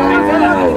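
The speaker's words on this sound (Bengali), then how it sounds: "বেশ বড় সাইজের একটা সাইওয়াল।" A large Sahiwal bull lows once, a drawn-out, loud moo close by at a crowded Bangladeshi livestock market, with crowd chatter around it.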